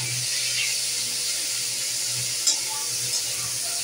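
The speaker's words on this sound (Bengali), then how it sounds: "এবার এই চিংড়ি মাছটা দিতে হবে বলে চিংড়ি মাছটাও একটু কড়াতে ভেজে নিচ্ছে।" Prawns fry in a kadai with a soft, continuous sizzle and hiss, broken by a couple of brief clinks or pops, close and without talk.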